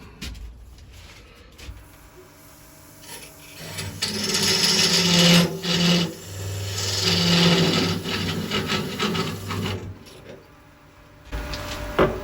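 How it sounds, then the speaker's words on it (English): A 1/16 inch parting tool cuts into wood on a lathe while a magician's ball and vase is turned, giving a steady rasping scrape that swells in the middle and fades toward the end. "that's a 16th inch parting tool"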